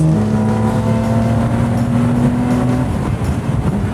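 A BMW M3 E46 naturally aspirated engine fitted in a 580 hp compact car runs close by, a loud, steady drone that wavers slightly and then drops in tone near the end.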